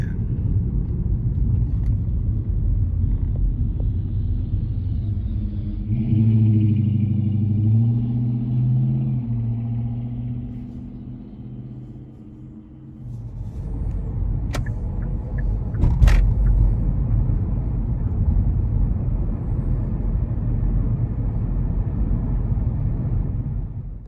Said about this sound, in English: these classic cars come out on Sunday